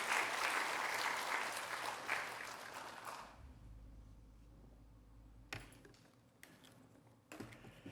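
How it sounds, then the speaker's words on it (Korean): A church congregation at a Wednesday prayer meeting claps warmly for about three seconds, then the applause stops abruptly, leaving quiet room tone with a few scattered taps and bumps. "우리 주님께 감사의 박수를 올려드릴까요?"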